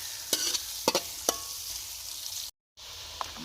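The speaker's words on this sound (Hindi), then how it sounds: "देसी घी आ गया जी। और इसमें हम डाल देंगे प्याज। प्याज़ों को हमने थोड़ा सा लाइट सा गोल्डन ब्राउन करना है।" Onions sizzle steadily in hot desi ghee, close and even, with three sharp stirring clacks early on and a brief cut to silence near the end before the sizzle resumes.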